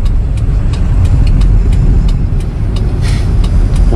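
A car engine pulls away on a road after an upshift into second gear, a steady loud mid-range drone with faint periodic clicks, continuous and close with no talk.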